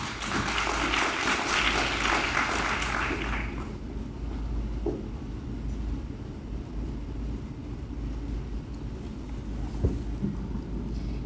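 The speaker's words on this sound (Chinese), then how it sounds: "请大家热烈掌声欢迎" Applause from an audience at a youth working-holiday briefing session in Taipei, a dense burst of clapping for the first three seconds, then fading out into room hum and a few scattered sounds.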